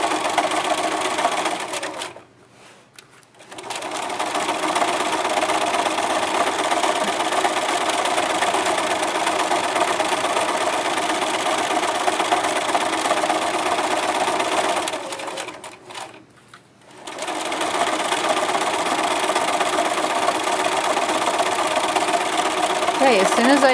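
A sewing machine stitches a bandana pillow in long, steady runs, its motor whirring loudly and evenly, stopping twice briefly for a pivot at the corners before starting again.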